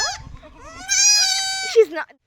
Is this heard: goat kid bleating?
yes